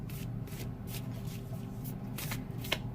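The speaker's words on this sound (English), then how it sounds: "Give this a good shuffle." Tarot cards being shuffled by hand in repeated quick riffling bursts, close and steady, with no voices over them.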